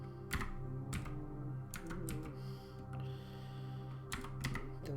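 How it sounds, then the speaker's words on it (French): Keystrokes on a computer keyboard tap out in irregular bursts while an IP address is entered during a Windows Server 2019 printer setup, the clicks close and clear over a steady low hum. "Excusez mon clavier un peu."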